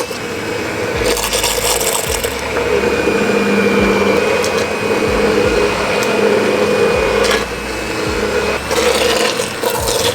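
Hand immersion blender running in a pot of crab bisque, a loud continuous whirring grind close to the listener, with brief surges and shifts in pitch as it moves through the soup.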